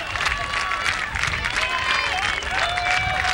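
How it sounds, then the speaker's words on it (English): A football crowd at a 1996 college game, Buena Vista against Wartburg, applauds and cheers for the Beavers on a third down, a continuous broad roar of clapping and voices throughout. "We got the fans again on their feet, urging the Beavers to shut down Wartburg"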